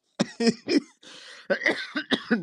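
Several harsh coughs come in quick succession during an online discussion, close and loud, with a raspy breath drawn between the bursts.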